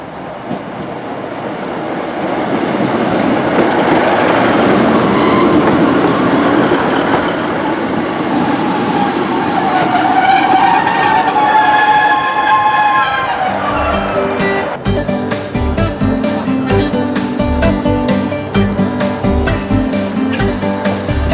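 A train on the East Kilbride line rumbles along steadily, wheels and track noise building, then turning into a rhythmic clattering mixed with the hum of the carriage, with no talking.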